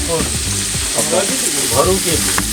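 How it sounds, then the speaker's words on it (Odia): Potato pieces frying in hot oil in a pan for an Odia crab and potato curry, a steady close sizzle and crackle with bursts of spattering, and no voices. "ଆଳୁଟା ତେଲରେ ଭଜା ହେଉଛି।"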